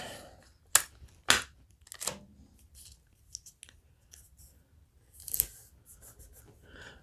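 Tape is pulled and pressed onto paper in short, sharp snaps and crackles, a few distinct close bursts separated by quiet pauses.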